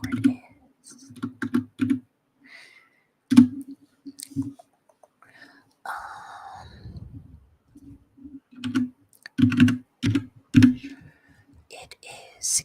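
Computer keyboard typing in an ASMR livestream, heard as bursts of quick, close clicks that come and go, with soft talking between and over the keystrokes.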